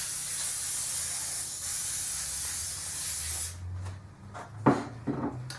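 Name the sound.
spraying canola oil into muffin tin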